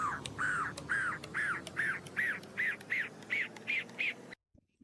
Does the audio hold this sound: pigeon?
yes